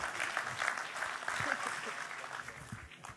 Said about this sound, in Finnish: kun yleisö aplodeeraa.